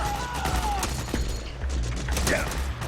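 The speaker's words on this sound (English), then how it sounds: "I don't know who's shooting me." Rapid bursts of enemy gunfire in Metal Gear Solid 4: Guns of the Patriots, dense and overlapping throughout, with a low rumbling game backdrop and occasional sharper cracks standing out from the continuous barrage.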